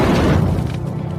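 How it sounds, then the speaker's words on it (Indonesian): A very powerful explosion in a film as a body bursts apart, a single loud, heavy boom with deep rumbling low end that stays dense and sustained, then slowly thins out. "membuat ledakan yang sangat kuat"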